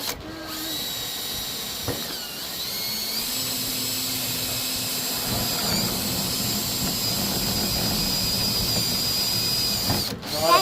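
A power drill bores through the transom of an old aluminum jon boat, a loud continuous whine that runs steadily for several seconds, close up, with a short pause near the start and a stop near the end.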